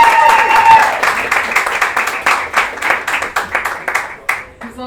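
Audience applause at a stage talk, a loud burst of many hands clapping that gradually thins into scattered claps and fades out.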